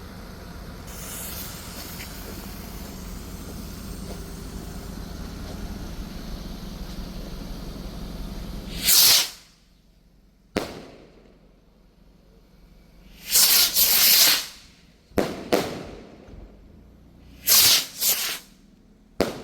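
Red Apple Doom 6-shot large rocket barrage fireworks launching outdoors: after a stretch of low rumbling background, sharp whooshing bursts fire off one after another, loud and close, with uneven gaps between the launches.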